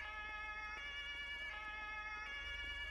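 Emergency vehicle sirens in the game FiveM (GTA V) during an ambulance roleplay, a steady, loud layered wail of tonal siren notes with pulsing, repeating sweeps, playing alone without talk.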